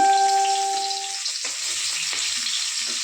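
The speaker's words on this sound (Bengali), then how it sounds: "এবার এই তেলটাতেই আমি দিয়ে দেবো পেঁয়াজ কুচি" Chopped onion drops into hot oil left from frying eggs, bursting into a steady, close sizzle that settles into a continuous frying hiss with a few faint scrapes, no voices.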